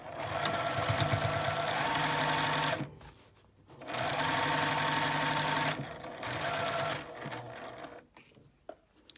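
A domestic sewing machine stitches a 1.5 cm seam on a drawstring bag in two long, steady whirring runs, with brief pauses between them and light clicks at the stops.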